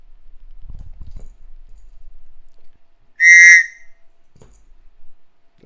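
A small whistle gives one short, loud, shrill blast in an otherwise quiet room, with faint handling noises before and after.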